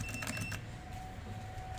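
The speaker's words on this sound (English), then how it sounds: "A little bit brokenish chime." An arrival chime from a small IFE home elevator with a slightly broken sound: a short cluster of bright tones, then one sustained thin tone that hangs over a low hum of machinery.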